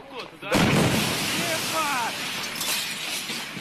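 The Chelyabinsk meteor explosion, captured on a recording, arrives as a sudden loud boom and then a sustained rumbling roar, with people's voices and exclamations heard over it.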